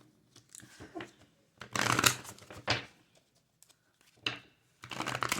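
Tarot cards are shuffled in several quick riffling bursts, crisp papery flutters separated by short pauses, close and fairly loud, with faint background voice now and then.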